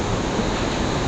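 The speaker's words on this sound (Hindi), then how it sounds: "ये दूसरा झरना आ गया, यहाँ भी झरने काफ़ी हैं" A mountain waterfall on a Himalayan temple trek pours in a steady, dense roar of rushing water, close and continuous with no other sounds.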